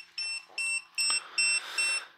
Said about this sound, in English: we've just exceeded the threshold of the first alarm